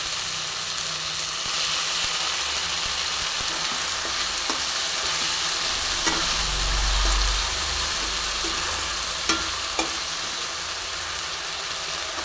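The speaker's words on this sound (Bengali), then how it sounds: "দেখো, ভালো করে মশলাটা কষা হচ্ছে।" Spice paste for ajwain chicken sizzles and fries steadily in a pan while being stirred, with occasional scraping clicks, close and continuous, without talking.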